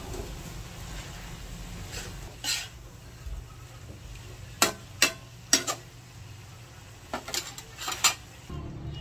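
Metal utensil scraping and knocking against a cooking pot while stirring tokwa for lunch, several sharp clinks clustered in the second half over a low steady background hum.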